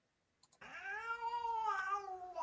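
A single drawn-out cat meow played as a sound effect, loud and close, rising into a long harmonic wail after two quick clicks, with no talking.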